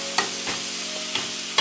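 Philly cheese steak filling being stirred on a Blackstone griddle, with a few scattered scrapes and spatula taps over a steady background sizzle, close and moderately loud.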